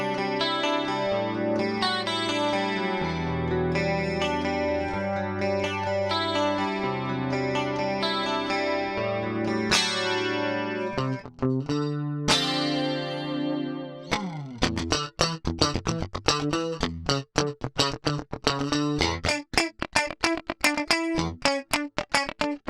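Clean electric guitar through a Fractal unit set for a Rockman-style analog stereo chorus, lush sustained chords ringing first, then a run of brisk picked notes and stabs, loud and alone with no talking.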